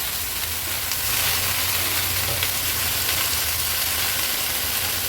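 Washed mixed vegetables added to sizzling ground masala in a pan, producing a continuous loud frying hiss with faint stirring textures, no voices.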